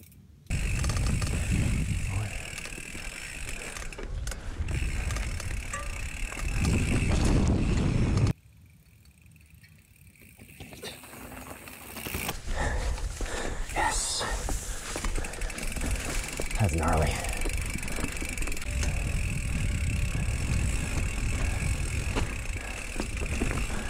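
Hardtail mountain bike rolling down rocky slabs and chunky trail in Duluth, Minnesota, with a steady loud rattle of the frame and drivetrain, then a brief near-silent gap before the clattering ride noise resumes.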